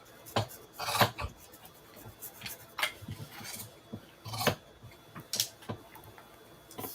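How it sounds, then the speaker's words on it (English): Large scissors slice through chenille fabric in a string of quiet rasping snips and rubs, irregular in rhythm and close by. "These are a pair of my favorite scissors,"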